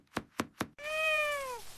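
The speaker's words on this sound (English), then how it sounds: "I feed my cat." Three quick knocks or thumps lead into a single clear, drawn-out meow from a house cat, close and distinct against an otherwise quiet background.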